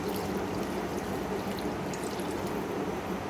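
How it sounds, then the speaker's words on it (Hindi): Water pours into a cooking pot of chicken kofta curry as a steady, fairly quiet continuous stream with no voices over it. "अब मैं जितना मैंने शोरबा रखना है उस लिहाज से आप पानी डालें इसमें"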